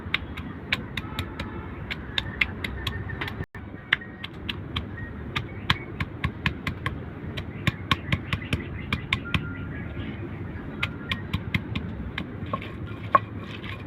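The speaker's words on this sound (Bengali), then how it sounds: "এখন আমি পেঁয়াজগুলা বেটে নেব।" Onions being ground into a paste by hand, heard as a fairly regular series of sharp scraping knocks over a quiet background, close by and alone.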